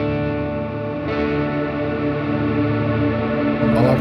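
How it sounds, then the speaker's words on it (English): Electric guitar played through a Line 6 M13 multi-effects unit set to its particle reverb, with sustained chords smearing into a dense, shimmering wash of distorted, echoing texture that swells steadily for several seconds with no voices. "Last but not least is the particle reverb."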